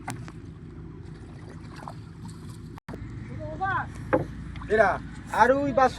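A low, steady motor drones as a ferry boat crosses a river, and nearby voices chat over it during the second half.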